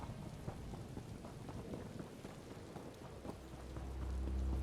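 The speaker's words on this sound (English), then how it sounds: "The sky is green and it's raining black ink." Steady rain hisses over a green-sky realm in Elder Scrolls Online Necrom, a dense even patter with distant low rumbles, swelling slightly in the last moment, no voices.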